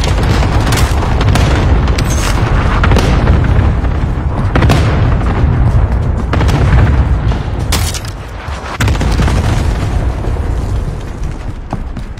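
Airstrike bombs detonate in Call of Duty Warzone as a loud, continuous barrage of booming explosions, with repeated heavy blasts stacking over each other for the whole stretch and no talk.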